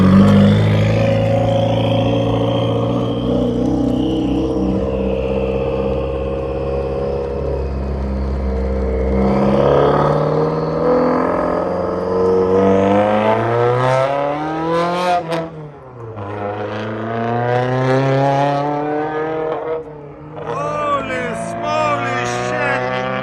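A Subaru STI with a straight-pipe exhaust revs loudly and close by, its raspy engine note climbing, dropping back and climbing again in several sustained pulls with a sharp dip in the middle.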